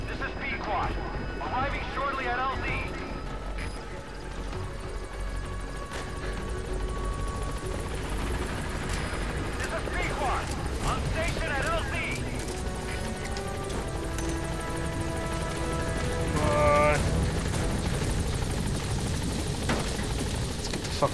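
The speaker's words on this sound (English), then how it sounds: "Yo, Chopper, hurry the fuck up, man." A helicopter arrives in the video game Metal Gear Solid 5: Phantom Pain, a steady loud rotor drone throughout with game effects and music layered over it.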